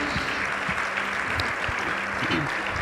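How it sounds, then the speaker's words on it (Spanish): A congregation applauds Teresa after her testimony at a Mother's Day special, giving brief, even, close applause with no speech over it. "Vamos a darle un aplauso a Teresa"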